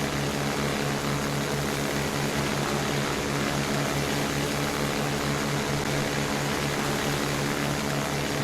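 Steady, loud drone of a Jabiru J-170D light aircraft engine and propeller in Microsoft Flight Simulator 2020, held at constant power just after takeoff, with a continuous buzzing hum filling the whole stretch without talk.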